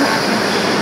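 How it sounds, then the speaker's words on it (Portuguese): A train departs from a station, a loud, close, dense rumble of rolling rail cars filling the brief moment, with no speech over it. "Ah, a gente perdeu o trem. É isso, ó. O trem tá indo."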